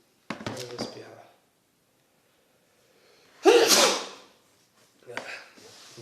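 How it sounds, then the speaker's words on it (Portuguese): A single loud, sharp sneeze bursts out close to the microphone, with brief talk from a woman before it and more speech resuming just after. "Eu vou espirrar."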